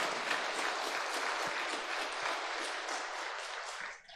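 An audience at a Catholic parish book concert applauds the author in a steady, even wash of clapping that holds throughout and begins to fade at the very end.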